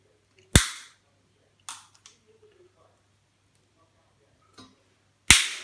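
Tin snips cut down the side of a scrap light fitting, giving three sharp, loud metallic snaps spaced several seconds apart, with a few faint clicks in the quiet between them.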